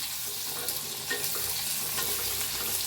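Lengthwise-sliced onion being stirred and fried in a pan for a green chutney, a steady hissing sizzle with occasional light scraping knocks from the spoon, close and without talk.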